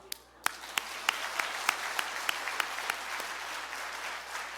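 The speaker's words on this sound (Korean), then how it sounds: "박수." A church congregation applauds at an evening revival meeting. Sharp individual claps stand out in a loose, roughly regular rhythm over a softer bed of crowd clapping, heard from a moderate distance.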